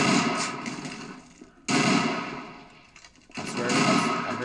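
Video game gunshots ring out in two loud, sharp bursts with long decaying tails, separated by a short lull.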